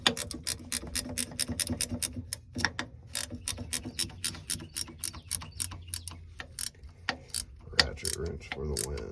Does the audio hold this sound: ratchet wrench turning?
yes